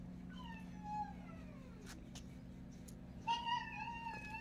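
Two drawn-out meows from nearby mixed-breed cats, one early and one later, over a low steady hum.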